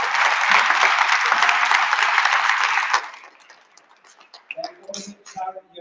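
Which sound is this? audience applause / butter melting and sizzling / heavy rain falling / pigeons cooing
audience applause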